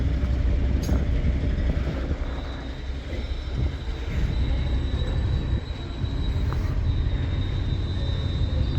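A Statesman Rail train being shunted at Crewe station rumbles low and steady, with a thin sustained wheel squeal and occasional metallic clanks and knocks from the rolling stock.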